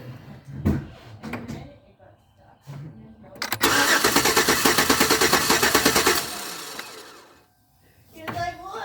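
A car engine with a persistent misfire cranks on the starter during a compression test, a loud rhythmic chugging run lasting about three seconds between brief bits of talk and clanks before and after.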